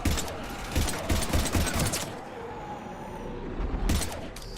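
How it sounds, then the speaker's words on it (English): Heavy gunfire rattles through a firefight in the video game Mass Effect 3, with dense overlapping shots and bursts early on, a noisy lull in the middle, then another volley near the end. "We're taking heavy fire."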